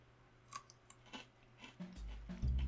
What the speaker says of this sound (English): it's got a visibly harder crunch to it